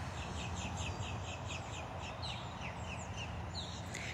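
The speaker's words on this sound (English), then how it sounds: "they make a really prehistoric sound when they're calling to each other" Large birds give repeated harsh, prehistoric-sounding calls to one another outdoors at a big cat sanctuary, a series of rhythmic rasping cries over steady low background noise, fairly faint and at some distance.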